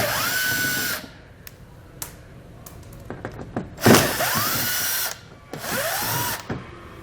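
A power drill backs out Phillips head screws during an EcoHitch hidden trailer hitch install on a 2018 vehicle: loud close bursts of whirring with pauses between them and a few sharp clicks and a thunk, with no talk.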